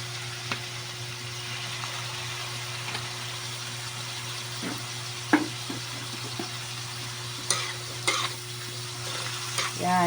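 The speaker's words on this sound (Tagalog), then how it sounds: "Habang sinasangkot siya natin, timplahan na natin ng paminta, bechin," Dinuguan, an Ilocano pork dish, sizzles while being stir-fried crisp in a pan, seasoned with pepper and fish sauce; a low steady fry hiss with a few scattered scrapes and clinks of the spatula, no talking.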